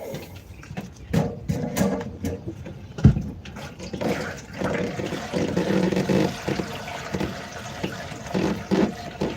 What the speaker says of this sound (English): where I can pour gas in this